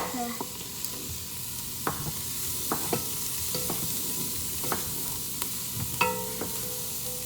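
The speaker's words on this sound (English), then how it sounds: "right now you want to keep stirring so it doesn't stick" A spoon stirs carrot ginger soup in a pot, making scattered clinks and scrapes at an uneven pace over a low simmering sizzle, fairly close and with no talking.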